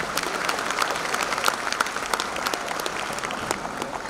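At a school's annual day celebration, a crowd keeps up steady applause for a few seconds, a thick patter of many hands at moderate volume with scattered louder claps.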